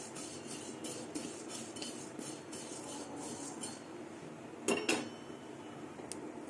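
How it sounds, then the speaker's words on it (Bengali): Fennel seeds and cinnamon dry-roasting in a pan with no oil, a spatula scraping and clinking against the metal with steady soft stirring, then two louder knocks near the end; no one speaks. "আর দারচিনি ভেজে নেব, একদম শুকনো খোলাতে ভাজবো।"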